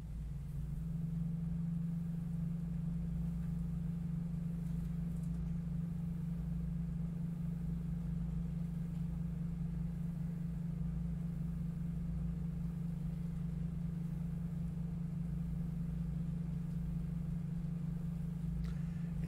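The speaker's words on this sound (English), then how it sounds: "sounds like a car running in the distance" A desk fan near a microphone makes a steady low hum and rumble, continuous and faint, much like an idling car engine heard from a distance, with no talk over it.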